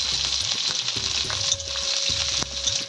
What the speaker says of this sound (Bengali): তেল গরম হয়ে গেছে, এবারে করলাগুলোকে ভেজে তুলে নেব।